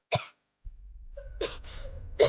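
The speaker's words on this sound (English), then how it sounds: "but a cough escaped me anyway" A single short cough bursts out at the start, then after a pause of quiet a low car-interior rumble rises under two more breathy coughs or gasps and a final sharp cough, close and fairly loud.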